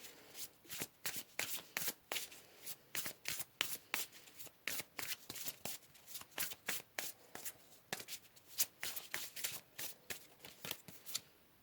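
Tarot cards shuffled by hand, a rapid run of crisp riffling slaps and flutters in quick bursts, close and fairly quiet, with no voices.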